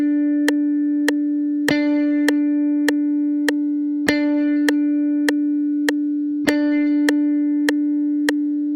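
Sustained whole notes held four beats each against a steady metronome click, with a louder accented click at the start of each note, a constant drone-like tone running throughout, no talking.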